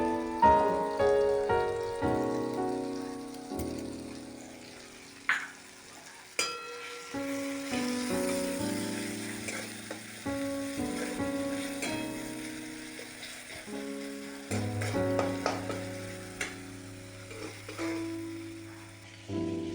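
Frying in a pan for a mustard egg dish as salt and a little turmeric go in, a steady sizzle with scattered scrapes and taps, alone and fairly close, without talk.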